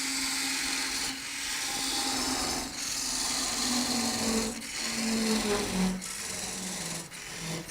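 A wood lathe spinning a pepper mill blank while a tool takes peeling, stepped cuts, giving a continuous whirring hiss with shifting pitch and periodic scraping bursts, close and steady with no talking.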